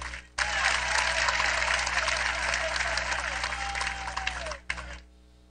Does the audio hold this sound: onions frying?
no